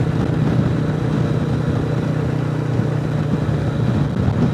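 A Royal Enfield Classic 350 motorcycle fitted with a 16-tooth sprocket cruises in fourth gear on an open road, its engine giving a steady, low droning hum under wind rush that stays even and close throughout.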